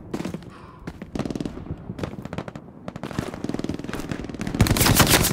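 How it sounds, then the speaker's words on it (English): Rapid bursts of automatic gunfire in the WWII shooter Hell Let Loose, dense volleys of shots crackling back and forth at mid distance, building to a loud close barrage at the end. "Whoa, I'm getting shot at."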